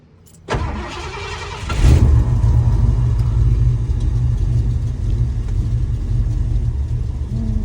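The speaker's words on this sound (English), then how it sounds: "Let's see if I get lucky with a true cold start." A 1990 Ford F-150 with a swapped 460 V8 cold-starts close by: a brief cranking burst, then the engine catches with a surge and settles into a steady, loud, rumbling idle.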